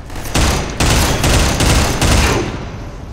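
Rapid automatic machine gun fire from the video game Entropy: Zero 2. It comes in several loud, sustained bursts with brief gaps between them, close and dense, and no voices are heard.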